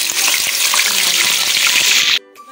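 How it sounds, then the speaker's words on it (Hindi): Ground onion, about two medium onions, hits hot oil in a pan for a gola kabab curry, giving a loud, dense, steady sizzle that cuts off abruptly near the end, followed by a brief quieter clatter. "ऑयल हमारा गरम हो गया है, इसमें हमने पिसी हुई प्याज शामिल कर देंगे"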